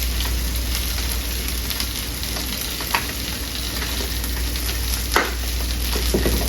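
Food sizzles steadily and loudly on a hot griddle, a continuous close frying hiss broken by a couple of sharp clicks and scrapes, with no voices.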